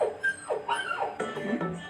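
A dog whimpers and yips in a run of short, rising and falling whines, fairly close and clear, with no speech over it.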